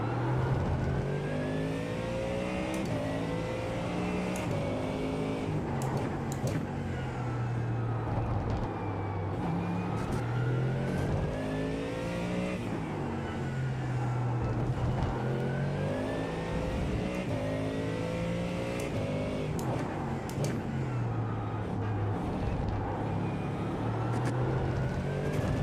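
Ford Mustang race car in the iRacing simulator, its engine revving and shifting continuously through gears with rising and falling pitch, loud and steady throughout without any talk.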